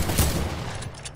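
A rapid burst of gunfire in the game Fortnite crackles through a dense, noisy mix, brief and fairly loud.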